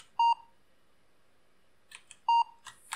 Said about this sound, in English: Escape character A does a beep